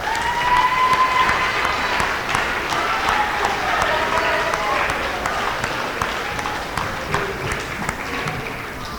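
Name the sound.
audience applause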